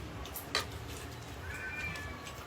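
A cat gives a short, fairly faint meow over quiet background murmur, with a brief knock just before it.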